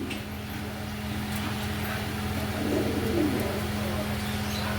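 Pigeons, including a black Mondain pair, give low, soft cooing close by, with faint background noise.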